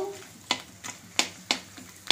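Potato papad frying in a little hot oil in a kadai, with soft sizzling under a run of sharp, regular scraping strokes from a spatula, about four or five close clicks.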